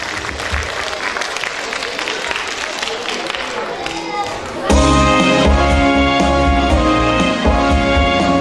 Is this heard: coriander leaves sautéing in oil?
no